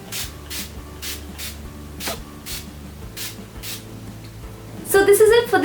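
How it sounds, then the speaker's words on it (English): Several short, sharp spritzes of makeup setting spray repeat in a loose rhythm close by, followed by a brief burst of rustling. "Just gonna fix everything with some setting spray."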